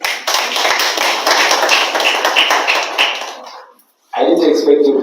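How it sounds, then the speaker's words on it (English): An audience at a live speech breaks into dense, loud applause for several seconds, which stops abruptly before the speaker's voice returns. "I didn't expect you to clap"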